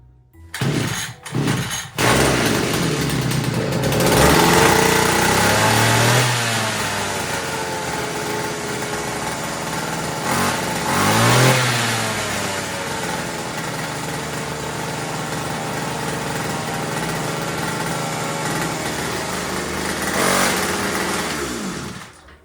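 Dnipro-M petrol garden tool engine, its worn pull cord yanked a few times before it catches and revs into a loud, steady high-pitched running drone with brief surges, close to the microphone and with no talk over it.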